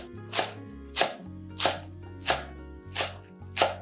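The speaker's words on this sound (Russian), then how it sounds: "Пучок зеленого лука меленько нарезаю." A knife finely chopping a bunch of green onions on a cutting board, six evenly spaced crisp cuts about two-thirds of a second apart, close and clear with no talking.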